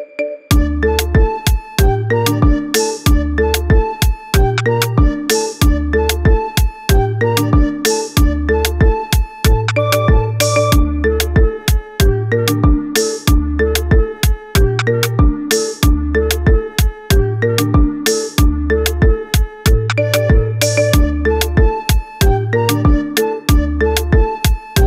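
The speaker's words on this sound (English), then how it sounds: "Get this cool ringtone for your phone now." Marimba ringtone remix of the Contra theme plays a bright, steady mallet melody over a repeating bass pattern, loud and continuous throughout with no voices.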